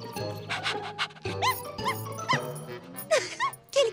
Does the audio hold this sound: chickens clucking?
no